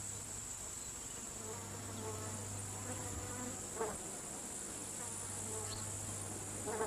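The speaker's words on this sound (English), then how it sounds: "Its millions of tiny flowers attract large numbers of insects." Many insects, mostly flies, buzz around the tiny flowers of a candelabra euphorbia on a rocky kopje in Tanzania, a steady layered hum of small wings with occasional closer fly passes over a constant outdoor background.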